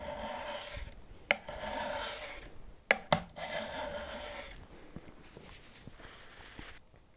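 A chisel's back rubbed on a sharpening stone to take off the burr: steady close rasping strokes of steel on stone, broken by a few sharp clicks and knocks, with no talking.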